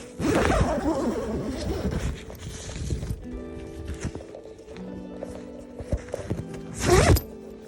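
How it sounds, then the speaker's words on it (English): Zipping up a pop-up fitness defender with a sandbag dropped inside, with short rasping zipper pulls and fabric rustles, one strong burst at the start and another near the end, close to the microphone. "you take your sandbag, drop it in the bottom of there, zip it up."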